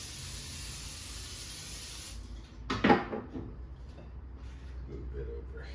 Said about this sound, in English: Spray it with a little spray.